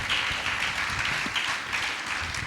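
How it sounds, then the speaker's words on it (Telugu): A church congregation applauds during a sermon, a dense, continuous patter of many hands clapping in a hall, fairly close and steady throughout. "నా మాట అర్థమైన వాళ్ళు చప్పట్లు కొట్టండి"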